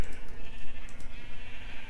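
Sheep in the Minecraft video game bleat repeatedly over a steady low background hum, several overlapping game-style bleats close and fairly loud, with no talking.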